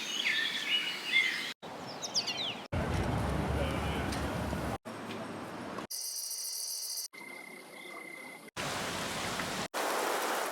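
Short ambience texture samples play one after another: rain patter, chirping crickets or insects and bird calls, each fragment cut sharply into the next at a moderate level.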